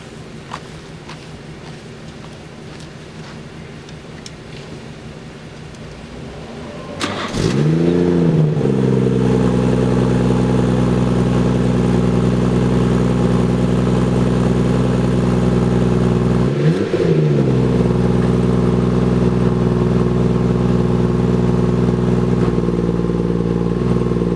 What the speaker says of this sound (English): I'm gonna probably start the car so y'all could hear how it sounds